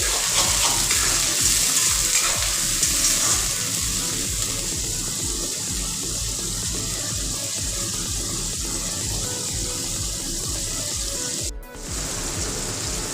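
Chopped onion sizzles in a pan as ginger garlic paste is stirred in, a loud continuous fry with scraping and stirring underneath, steady throughout with one brief dip near the end.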